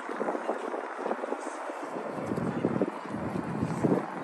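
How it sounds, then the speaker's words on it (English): Strong wind buffets the microphone on a downtown Louisville riverfront, a steady roaring rush with gusty swells throughout and no clear talk. "Ooh, and really windy."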